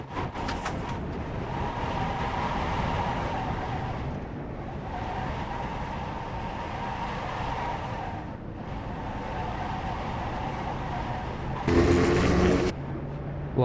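Small combustion car engine in the iRacing sim, a 50 HP motor likened to a Renault Twingo, droning steadily at moderate loudness with shifting pitch, brief dips and a sharp burst near the end, no talk over it.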